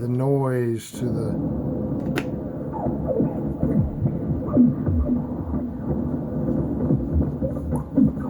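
A Krell-style patch on a Behringer Neutron analog synthesizer, with a sample-and-hold and noise modulating everything: a sweeping tone gives way to a dense, rumbling wash dotted with random bubbling blips and swells.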